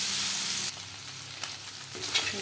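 Loud bright sizzle of boiled egg pieces dipped in beaten egg frying in a pan, then softer crackling with small stirring scrapes and spits close by.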